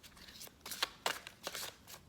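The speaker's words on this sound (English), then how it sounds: "I'm gonna try to shuffle this a little" Tarot deck being shuffled by hand, a few quick riffling bursts of card flutter and slaps, close and soft, with no talking.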